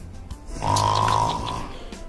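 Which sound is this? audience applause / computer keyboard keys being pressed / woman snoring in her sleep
woman snoring in her sleep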